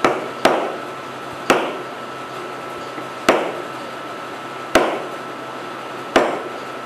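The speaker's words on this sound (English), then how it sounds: "I'm just going to tap with the hard side of the hammer." Sharp hammer taps, the hard face striking a nylon piece to set a wooden block's edge flush, land as six distinct knocks at uneven intervals, close and clear over a faint steady hum.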